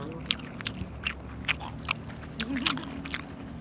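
Close-miked bites and chewing of food, likely salted egg yolk waffles or Sichuan noodles at a Shau Kei Wan food stop, with a series of sharp crunchy bites about every half second and no talk.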